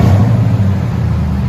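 2017 Toyota Tundra 5.7L V8 with true dual exhaust and Flowmaster Super 10 mufflers, a loud steady deep rumble at idle or light throttle, close and alone.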